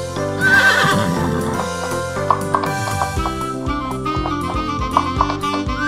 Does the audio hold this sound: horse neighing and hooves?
yes